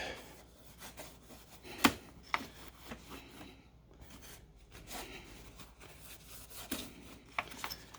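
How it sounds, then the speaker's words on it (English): A rag rubs and wipes along a Harley-Davidson motorcycle fork part, giving soft, uneven scrubbing strokes and occasional light knocks, quiet and close with no talking. "just gonna wipe this off a little bit"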